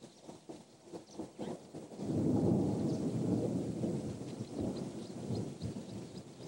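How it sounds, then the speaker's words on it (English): Distant thunder rolling across a hot savanna horizon, a low rumble that swells after a couple of seconds and holds steady, moderately loud, with no talk over it. "stir themselves at the sight and sound of distant thunder on the horizon"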